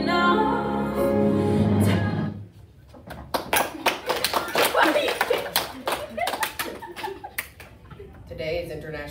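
An audience claps after a school performance with a Greatest Showman theme. A dense burst of applause starts partway through and continues as scattered hand claps with some light laughter over it.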